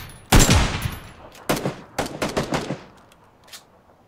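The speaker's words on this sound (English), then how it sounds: "I'm using the shotgun." Shotgun blasts in PUBG, a loud sharp shot followed by a string of several quicker, quieter reports trailing off, with nearby gunfire echoing in open terrain.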